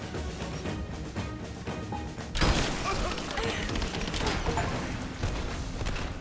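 Gunfire in a Rise of the Tomb Raider firefight, a dense, continuous barrage of shots and impacts that surges into a louder, sustained volley partway through.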